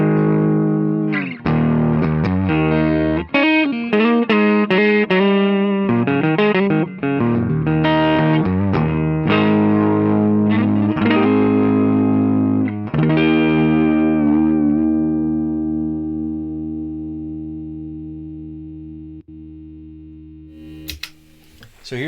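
A Line 6 DM4 Distortion Modeler pedal with its drive turned up gives a compressed, distorted electric guitar. Chords and riffs play loud and close, then a final chord rings out and slowly decays, with a brief noise at the end.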